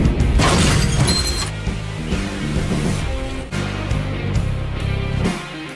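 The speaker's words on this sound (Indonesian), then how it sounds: "memukul kaca depan mobil dengan tabung gas pemadam kebakaran sampai kaca bagian depan mobil hancur lebur" A car windshield is bashed with a fire extinguisher canister until it is destroyed: a loud, sharp crash of shattering glass opens, followed by repeated heavy impacts and crunching, scattering fragments throughout.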